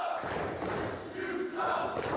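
A wrestling arena crowd chants and roars for Orange Cassidy, a dense wall of massed voices holding steady with rhythmic swells of chanting, loud and unbroken.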